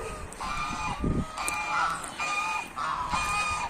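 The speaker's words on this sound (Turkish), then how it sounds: "Seslere bak. Bunlar bizim kazlar." Several geese honk repeatedly in a noisy chorus, harsh nasal calls overlapping in bursts, fairly close with some scuffling underneath.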